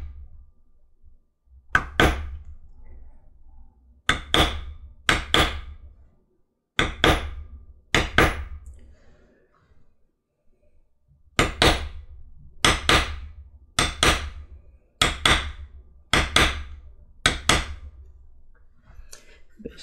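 A pear shader tool struck with a mallet on a carved leather book cover, sharp close taps in small clusters of two or three, separated by short pauses and a longer gap midway, with no talk.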